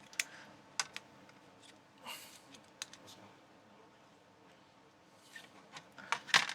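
Keys on a grimy ZX Spectrum home computer's rubber membrane keyboard are pressed and handled, giving sparse soft taps and clicks at close range with quiet rustling between them.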